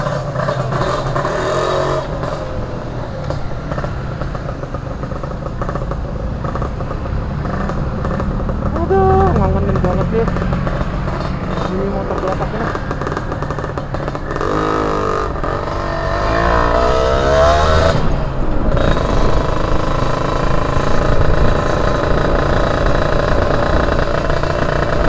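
A Kawasaki Ninja R two-stroke kick-start motorcycle engine runs steadily and loudly for the whole stretch, with rises and falls in revs over a constant mechanical drone.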